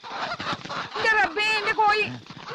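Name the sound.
chickens clucking, brought by a poultry seller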